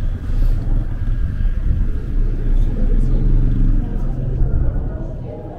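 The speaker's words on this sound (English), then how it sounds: "Looks like there's another bus here." A bus idles at a stop in Salta, Argentina, its engine giving a deep, steady rumble that stays close and loud throughout while people talk over it.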